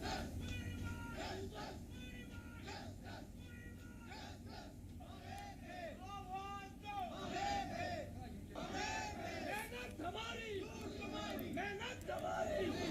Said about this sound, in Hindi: मुजाहिरीन ने नारेबाजी करते हुए हुकूमत और मुतल्लिका अफसरान से फौरन उनकी रुकी हुई तनख्वाह जारी करने की मांग की है